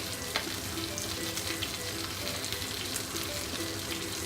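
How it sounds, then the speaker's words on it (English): Ginger and garlic fry in hot oil in a wok with a steady, dense sizzle and crackle. Occasional stirring scrapes and taps sound close up, with no talking. "I want the flavor to be infused into the oil from the ginger and garlic."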